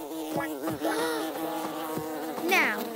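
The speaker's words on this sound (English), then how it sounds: "Makar, are those bees attacking?" Cartoon bees buzz in a kids' animated show, Orange Moo-Cow. Their close, wavering drones rise and fall in pitch over a few seconds.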